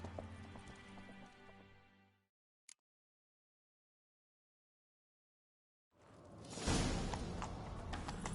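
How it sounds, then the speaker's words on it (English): Hooves clip-clop as a horse gallops in a video game, a rhythmic pounding that cuts out to near silence for several seconds, then returns louder and denser with rushing movement. "Grab a horse, we'll chase him down."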